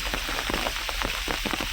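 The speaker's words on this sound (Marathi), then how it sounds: "सिंधुदुर्ग जिल्ह्यामध्ये मुसळधार असा पाऊस पडत आहे" Heavy monsoon downpour in Sindhudurg district, Maharashtra, making a dense, steady hiss of rain on surfaces that fills the whole stretch, with no voices.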